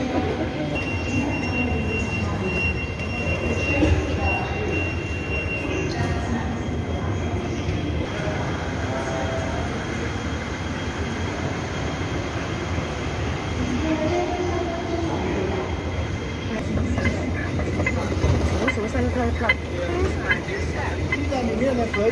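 A Hong Kong International Airport train pulls in with a continuous rumble and squealing wheels, mixed with faint station voices and announcements.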